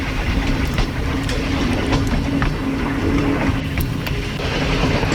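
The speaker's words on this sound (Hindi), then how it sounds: "12 डाउन हज़ारा एक्सप्रेस यहाँ पे बगैर रुके चलती है" Hazara Express passenger train running through a station in Pakistan without stopping, a steady loud rumble of wheels and engine with rattling clatter throughout, no voices.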